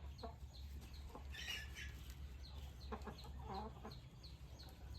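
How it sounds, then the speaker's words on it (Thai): Young hens cluck intermittently in short bursts, with a brief rustle of flapping wings partway through, all over a constant low background hum. "ไก่สาวนะครับสายเลือดดีๆน่า พัฒนานะครับ"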